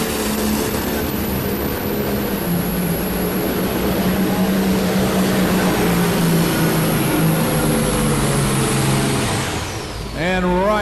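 A pulling tractor's engine roaring at full power during a tractor pull at an indoor farm machinery show, a loud sustained blare with shifting harmonics that cuts off near the end, with an announcer talking over it.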